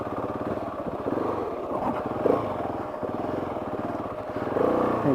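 KTM 690 motorcycle engine running steadily up close while riding a muddy, wet trail with slick roots in the rain, a continuous throbbing drone that surges slightly louder near the end.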